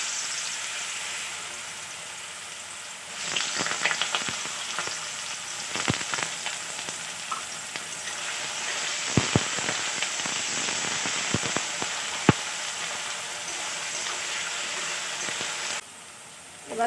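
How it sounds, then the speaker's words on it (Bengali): Chopped potatoes drop into hot oil in a wok and break into a loud, sustained sizzle with crackling pops and a few stirring knocks, then the frying cuts off near the end. "কড়া গরম হয়ে গেছে, তেল দিয়ে দেবো কড়াতে। প্রথমে আমি কুচানো আলুগুলো দিয়ে দেবো।"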